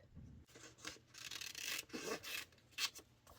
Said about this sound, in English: I'm just going to cut this out